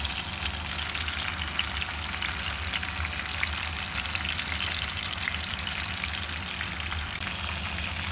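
Fish pieces frying in a pan over a medium flame, a dense, even crackling sizzle that holds steady and close throughout, with no one speaking.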